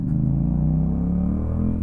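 A Yamaha MT-07 motorcycle exhaust rumbles loudly and close as the bike accelerates, a deep steady engine note rising slightly in pitch over a couple of seconds.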